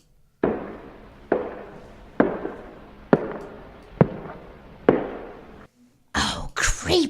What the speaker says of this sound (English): Who'd be coming up your stairs at this time of night?